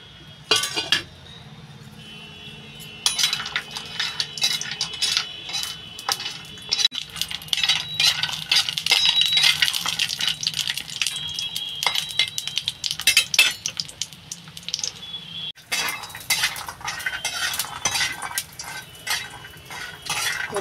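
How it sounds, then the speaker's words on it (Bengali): Lentil dumplings (bori) frying in hot mustard oil in a wok, with close clinks and scrapes of a utensil against the pan and a steady crackling sizzle throughout, no voices. "আমি একটু সরষের তেল দিয়ে দেবো, বড়িটা ভেজে নেব।"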